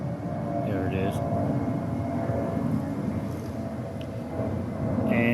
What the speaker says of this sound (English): The sound you're hearing is a jet taking off from Ontario Airport.